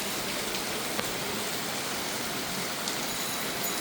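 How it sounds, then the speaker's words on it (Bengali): Heavy night rain pours down in a dense, steady hiss and patter close around, unbroken for the whole stretch, with no voices. "রাতের বেলা ঝুম বৃষ্টি"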